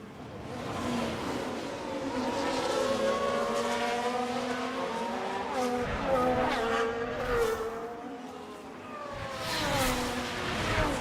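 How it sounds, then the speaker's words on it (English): Race car tyres skidding and squealing in the F1 Manager 24 video game on the Baku street circuit, wavering tyre squeal layered over engine drone, sustained for several seconds with a rise near the end. "That's certainly one way to heat up your tyres, Checo."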